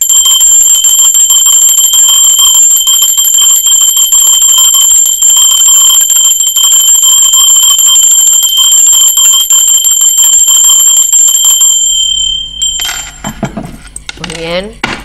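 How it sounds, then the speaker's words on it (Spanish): A bell rings loudly and continuously with bright, sustained metallic tones for about twelve seconds, then cuts off, followed by brief clattering sounds. "Va campana."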